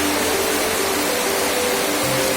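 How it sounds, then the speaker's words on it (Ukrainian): Shypit waterfall roars with a steady, loud, broadband rush of falling water that fills the whole stretch without a break, close by and unaccompanied by voices. "Ось такий він водоспад шипіт у всій красі."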